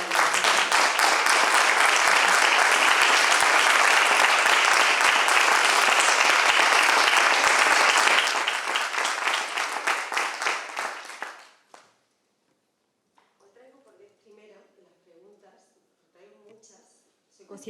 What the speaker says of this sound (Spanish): os pido un aplauso muy fuerte de bienvenida para Víctor Manuel